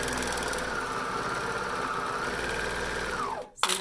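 A sewing machine stitches a pant leg seam with a steady, close, buzzing whir that runs continuously, then slows and stops abruptly near the end.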